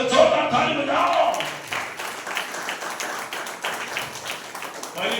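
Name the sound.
audience clapping loudly for the Lord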